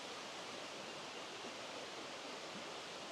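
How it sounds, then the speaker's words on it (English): River about 30 to 40 feet wide in Monongahela National Forest, West Virginia, flowing at a decent pace at a bike touring crossing; steady broadband rush of moving water, continuous and even throughout with no voices. "the water's flowing decent enough"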